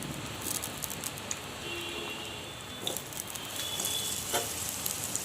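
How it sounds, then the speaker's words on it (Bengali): Potato pieces fry in hot oil in a pan, giving a soft, steady sizzle with scattered crackles and spits, heard close and fairly quiet. "আলু প্রথমে দিয়ে দিলাম"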